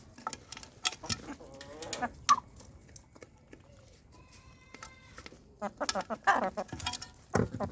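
Free-range village chickens eating feed a keeper has scattered for them, with soft clucks, pecking and rustles close by, broken by several sharp louder bursts and someone talking over parts of it.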